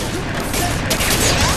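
Dense covering gunfire in FEAR 3, a steady loud stream of automatic shots and blasts filling the whole moment with no pauses.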